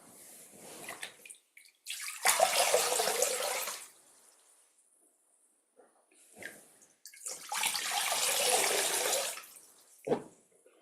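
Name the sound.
water poured for washing feet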